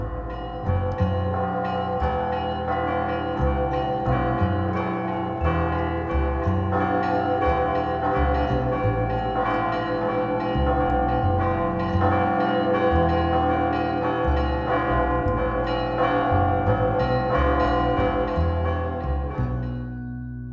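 Church bells rung by a novice bell-ringer nun trained at a monastery in eastern Ukraine, sounding as a sustained, dense peal of overlapping tones that rings loudly and continuously throughout.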